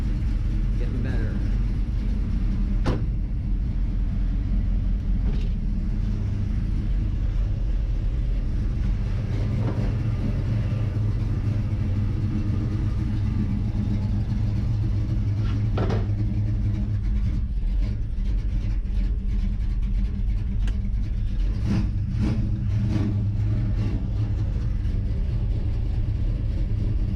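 A 1969 Chevrolet Nova being revived runs its engine while driving in forward gear, a steady low rumble throughout with occasional knocks and clunks; a voice talks over it.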